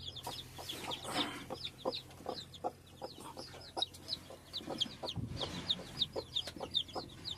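A hen with a small brood of five newly hatched chicks. Soft, repeated hen clucks sit under frequent high, thin chick peeps, all fairly quiet and close, with no talk.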